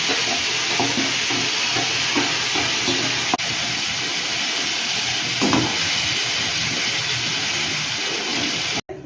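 Fish sizzles in hot oil tempered with dried red chillies, cumin and bay leaf, a loud steady hiss close by with occasional light knocks and a sharp click before a brief drop near the end.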